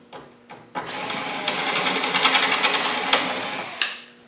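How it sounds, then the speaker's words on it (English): A cordless drill with a blunt bit and a weak battery grinds through aluminium pop rivets on a Land Rover Defender door, a sustained close whine with rhythmic pulses, preceded by a few short taps. "So I'm going to just drill these pop rivets out."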